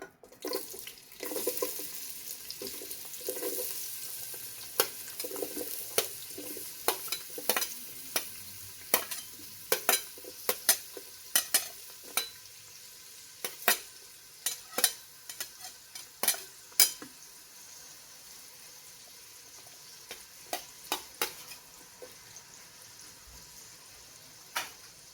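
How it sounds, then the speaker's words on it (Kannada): Sliced onions sizzle steadily in hot oil over fried mustard seeds for mushroom biryani, with a spoon scraping and clicking against the pan in frequent sharp knocks, close and fairly loud throughout. "ಆನಿಯನ್ಸ್ ಹಾಕ್ಕೊಳ್ತಾ ಇದ್ದೀನಿ."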